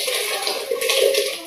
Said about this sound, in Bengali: এই পুরো গরম জল হাতে হাতে পড়ছে